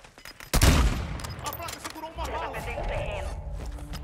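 Gunfire in the video game Warzone 2.0: a loud burst of rapid shots erupts near the start and then trails into scattered crackling and rumble, with voices talking over the action.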